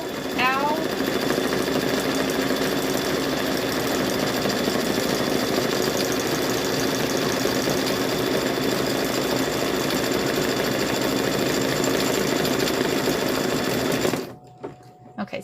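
A sewing machine stitching a fabric patch, running loud and continuous at a steady fast rate for about fourteen seconds before stopping abruptly, with voices faintly present during the run.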